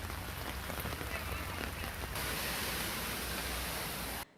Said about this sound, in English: rain lashed various parts of the city